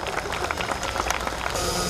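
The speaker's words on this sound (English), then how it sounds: "Give a big round of applause." An audience applauds at a primary school annual day event, a steady wash of many hands clapping together, loud and continuous, with faint voices mixed in.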